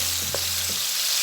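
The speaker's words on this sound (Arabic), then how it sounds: "هشوحها من الجهتين" Chicken pieces sizzle steadily in a hot tray as they are browned on both sides, a close, dense frying hiss with a couple of faint clinks and no talking.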